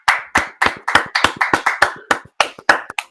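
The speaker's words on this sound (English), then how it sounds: "let's give a round of applause, a standing ovation to Igor Shesterkin" Crowd-style applause from a hockey fan show about the New York Rangers: a few hands clapping in quick, loud, close bursts, roughly a dozen sharp claps in an uneven rhythm with no talking over them.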